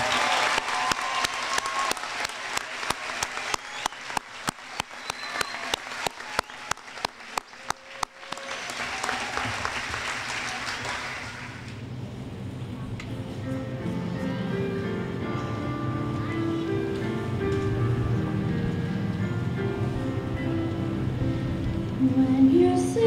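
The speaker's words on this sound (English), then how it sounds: "Now we can give them a well-deserved round of applause" Applause for junior high graduates at a 2012 graduation ceremony: sharp rhythmic clapping at first, then a broad wash of crowd applause that fades as music begins to rise underneath.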